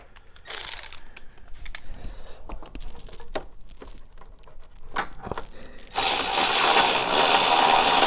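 Ratchet wrench driving a 13mm bolt into an engine or transmission mount on a 2011-2019 Ford Explorer, giving bursts of close clicking with a few clanks, then a louder steady rush of noise near the end.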